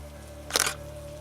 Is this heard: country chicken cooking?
no